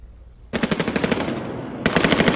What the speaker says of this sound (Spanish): Fuertes explosiones, disparos